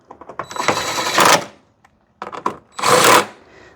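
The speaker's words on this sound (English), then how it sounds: "Grab a 10mm, tighten them in there." A 10mm ratchet wrench tightening the headlight assembly nuts on a 2007-2012 Hyundai Santa Fe gives out rapid clicking bursts of ratcheting, close and distinct, two main runs separated by a short pause.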